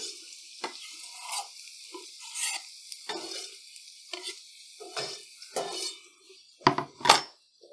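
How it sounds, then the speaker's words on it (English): Onions hiss and sizzle in shimmering hot oil in a pan for an egg curry, with a steady frying crackle under repeated scraping stir strokes and a couple of louder metallic clanks near the end. "so get our onions in. Get the sizzle on."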